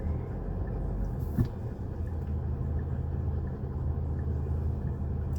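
Steady low rumble of road traffic from many cars passing a roundabout, a continuous mid-distance engine drone with one brief louder pass, no talking.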